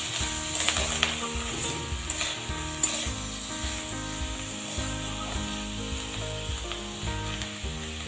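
Chopped onion fries in a pan with salt and turmeric, giving a steady, soft sizzle with light scraping from stirring, with no voices over it.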